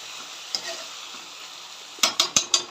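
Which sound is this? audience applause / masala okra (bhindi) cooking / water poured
masala okra (bhindi) cooking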